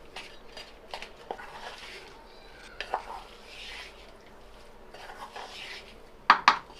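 A spoon scrapes and clinks against a pan while a vada pav filling mixture is stirred, in irregular soft strokes, ending with a sharper clatter.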